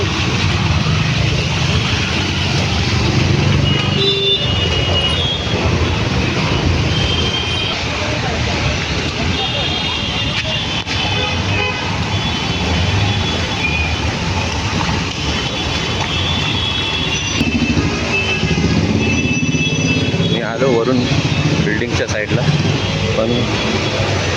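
A full traffic jam on a Mumbai street in heavy rain: a continuous dense rumble of idling and creeping vehicles with occasional horns, with people talking over it throughout.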